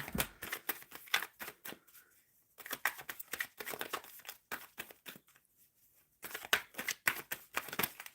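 Tarot cards shuffled by hand in repeated crisp riffling bursts with short pauses between, close and fairly quiet, with no voices over them.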